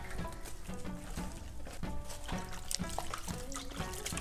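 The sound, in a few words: salt water brine poured onto cabbage for kimchi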